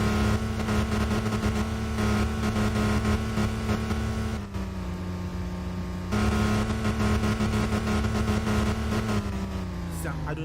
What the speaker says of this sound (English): I do not like the way this truck sounds at all.